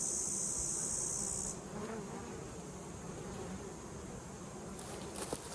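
Bees buzz steadily in a dense, close swarm, with a brighter high-pitched whine for the first second or so before settling into a softer hum.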